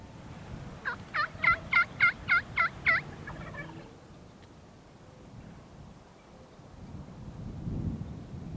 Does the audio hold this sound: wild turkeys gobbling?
yes